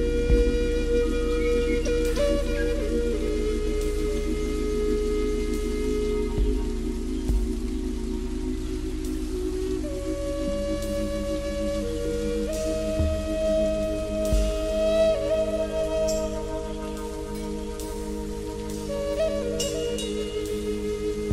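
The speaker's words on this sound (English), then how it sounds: "lightning and rain" Rain falls steadily in an animated children's cartoon, a continuous soft wash that runs the whole time beneath sustained musical tones.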